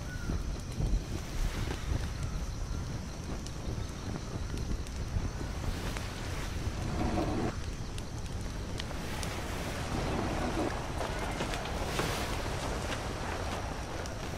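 Wind noise while sailing a boat under a single sail, a steady rushing buffeting on the microphone with faint water sounds beneath, continuous and fairly loud.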